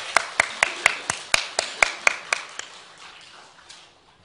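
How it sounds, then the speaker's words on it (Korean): A church congregation at an afternoon worship service applauds a speaker coming forward: a small run of sharp, fairly quiet handclaps in a steady rhythm that thins out and fades toward the end. "우리 나오실 때 박수 한번 부탁드리겠습니다"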